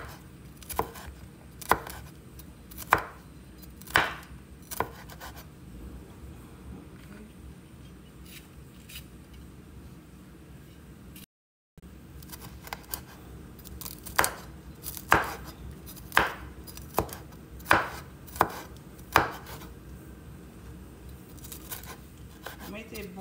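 Knife chopping bell peppers on a board while preparing spaghetti, sharp irregular clacks in bursts, fairly close, with a short gap midway and faint background murmur.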